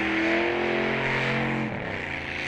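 A short-wheelbase car does a smoky burnout, its engine revving hard and sustained at high pitch before the tone drops and shifts, loud and continuous with crowd-like background noise.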